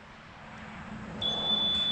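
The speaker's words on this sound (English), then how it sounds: "Beeps out there too at the actual intercom, and then this will beep" A Mighty Mule FM136 wireless intercom keypad gives a single sustained electronic beep that starts partway through and holds steady to the end, over a low background hum.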